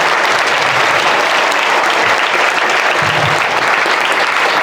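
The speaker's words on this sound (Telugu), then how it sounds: "వాళ్ళందరికీ కూడా ఒకసారి క్లాప్స్ కొట్టాలి టీచర్స్ అందరూ." Dense, sustained applause from a large crowd of students and staff at a college Ganesh immersion celebration, clapping loudly and steadily for the teachers throughout.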